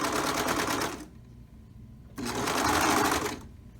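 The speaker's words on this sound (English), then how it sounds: "I will just go as I would normally serge two pieces of fabric together" A serger stitches two pieces of t-shirt fabric together at a neckline, whirring loud and close in two bursts separated by a quiet pause of about a second, with no talk.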